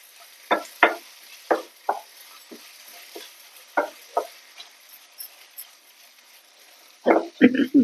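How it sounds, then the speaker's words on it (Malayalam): A spoon stirs mango-ginger pickle with lemon juice in a pan, making scattered scraping taps and soft knocks that arrive in irregular bursts. A denser flurry of stirring closes the passage, all fairly quiet. "എല്ലാം കൂടി നല്ലോണം ഇളക്കി യോജിപ്പിക്കാം"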